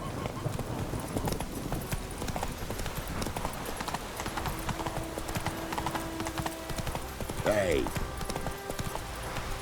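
Roach the horse trotting in The Witcher 3, with brisk, even clip-clop hoofbeats running throughout, a short whinny near the end, and a voice speaking briefly.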